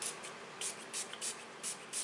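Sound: spray can being sprayed

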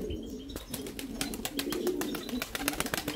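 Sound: pigeons cooing outside their coops

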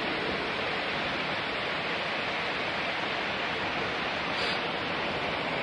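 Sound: waterfall

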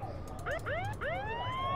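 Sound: siren sound in Nancy Drew video game puzzle

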